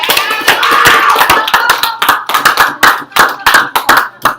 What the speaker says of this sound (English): can I have a round of applause for everybody?